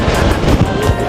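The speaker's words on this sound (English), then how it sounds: "it's so windy and vlogging is getting a little complicated" Strong wind blowing through Edinburgh's old town, gusty rumbling buffets hitting the microphone in a short, loud burst with no voices.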